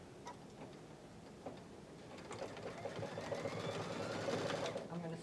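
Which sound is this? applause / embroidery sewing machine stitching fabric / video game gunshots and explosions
embroidery sewing machine stitching fabric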